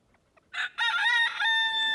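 A chicken on a small farm in freezing cold crows once, loud and close, after a couple of faint clucks, the drawn-out call holding steady to the end.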